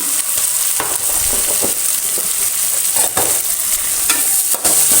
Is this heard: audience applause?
no